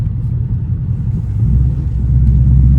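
A deep, steady Ford Mustang exhaust rumble that swells slightly louder partway through, a continuous low idle growl with no voices.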